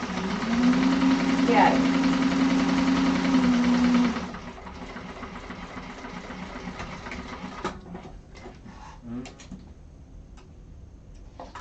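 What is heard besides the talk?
sewing machine chain stitching a satchel seam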